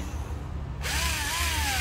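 A 7.2V cordless drill spins up abruptly from low background noise into a steady, loud whir with a rising then level motor tone, running alone without talk.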